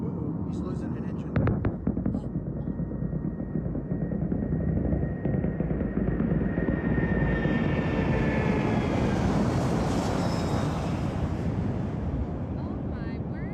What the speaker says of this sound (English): He's losing an engine.